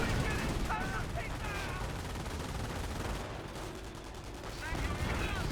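Company of Heroes battle with rapid rifle and machine-gun fire mixed with sharp Pak 38 anti-tank gun shots, dense and continuous, with a voice talking through parts of it.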